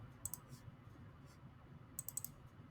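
Computer mouse clicking at a desk, a few quiet sharp clicks in small clusters, one pair early and a quick run near the end, over faint room noise.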